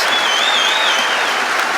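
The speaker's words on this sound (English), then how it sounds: "Barnett is going to get the standing ovation that he so richly deserves" At a Wrexham versus Northampton Town football match, the stadium crowd gives Barnett a standing ovation, loud continuous applause filling the ground with a steady wash of clapping and a thin whistle riding on top.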